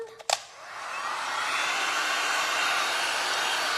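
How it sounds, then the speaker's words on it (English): Heat gun blowing steadily over resin in a glass and resin flower art piece, a brief click at switch-on followed by a continuous airy roar. "so let's grab the heat gun."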